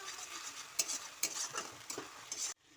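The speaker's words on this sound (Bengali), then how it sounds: "দিয়ে মশলা দিয়ে আমি আদাটাকে ভালো করে ভেজে নিচ্ছি" Ginger fries with spices and salt in a pan, a soft sizzle broken by quick rhythmic scraping strokes of stirring before it cuts off abruptly.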